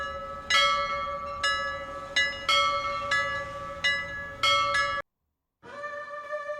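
A large temple bell is struck repeatedly in a steady, loud series of ringing clangs that overlap as they decay, then falls silent briefly before ringing again.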